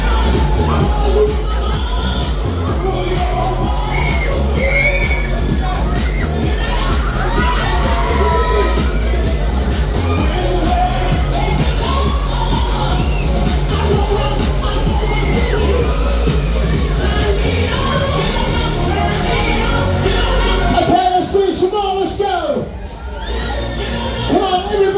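Riders on a Waltzer at Nottingham's Goose Fair shriek and yell over a steady roar of ride machinery and music, with dense, continuous screams swelling in waves and a loud peak near the end.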